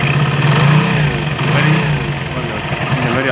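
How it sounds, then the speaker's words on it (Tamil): Engine idling after repair, a close, loud, steady low hum with a mild flutter, running continuously while someone talks over it. "இப்போ இன்ஜின் நாய்ஸ் பார்த்தீங்களா, பக்கா இருக்குங்களே."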